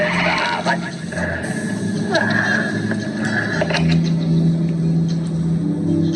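Aerobatic display jets at an air show roar past at over 600 km/h, a continuous loud rush and rumble over several seconds with crowd noise and a voice talking underneath.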